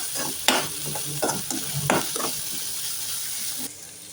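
Cabbage and spice momo filling stirred in a hot pan, a steady sizzle under repeated scraping strokes of a spoon, fairly close, with the sizzle dropping away near the end.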